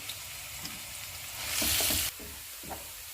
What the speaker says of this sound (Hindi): ऑयल गर्म हो गया, इसमें प्याज डाल देंगे और प्याज को हम गोल्डन फ्राई करेंगे।